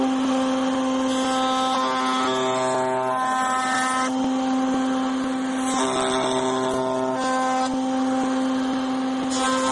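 A handheld wood router fitted with a round cutting bit spins into wood, giving a loud, steady high-pitched whine whose pitch shifts slightly as the cutter loads up and eases off.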